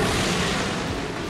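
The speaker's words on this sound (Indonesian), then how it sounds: "Kapal meledak yang satu." A foreign fishing boat being sunk is blown up in the Strait of Malacca off Belawan, Medan, giving a dense, rumbling blast of noise that holds briefly and fades slightly.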